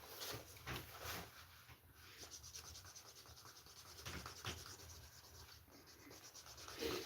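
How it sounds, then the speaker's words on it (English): Leather holster edges being burnished by hand after beveling, a steady soft rubbing and friction sound with repeated strokes, fairly quiet and close, with no talking. "We got the edges beveled. I'm going to get them burnished up here."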